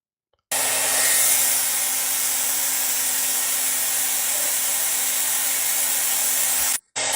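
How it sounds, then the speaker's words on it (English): A blow dryer blasts a loud, continuous rush of air onto the exposed fan of a PS4 with its outer shell removed. The noise starts abruptly, holds steady and briefly cuts out near the end. "He's got a blow dryer on the fan, all just to play NBA 2K25"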